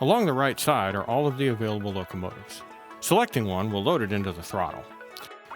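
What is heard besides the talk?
None of the usual background noises is heard.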